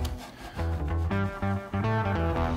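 Guitar fret ends are polished with a 1500-grit micro mesh pad in rhythmic back-and-forth rubbing strokes, close and fairly loud, with faint ringing string tones beneath and no talking.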